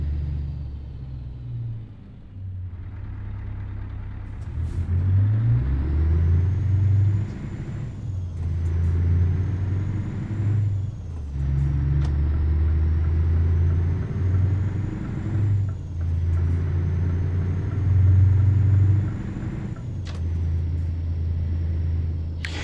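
A heavy truck hauling six tons of cars in a truck simulator game: a steady, loud diesel engine rumble that rises and settles as it drives, with a few short air-brake hisses.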